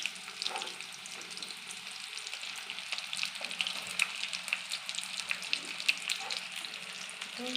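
Chopped onions frying in hot oil for a chicken dish, a steady crackling sizzle with small pops and occasional stirring, moderately close and continuous with no talk.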